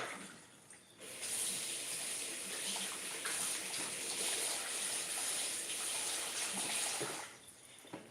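Water runs steadily from a kitchen tap for hand washing, a broad close rush that starts after a second, holds evenly for about six seconds, then shuts off.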